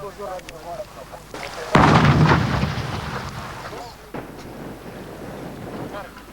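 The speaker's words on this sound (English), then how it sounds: "An extra 4 mines have blown alongside those uncovered by the deminers." Controlled detonation of PMN landmines in a Mozambique minefield, a single heavy blast that booms and rumbles away over a few seconds at some distance, with wind buffeting the microphone and voices around it.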